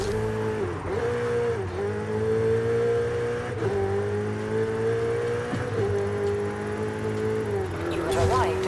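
Exhaust of a car in an Italian exotic car pack for a driving video game, droning steadily with rising and falling revs across several shifts, close and continuous, with brief dips between gear changes.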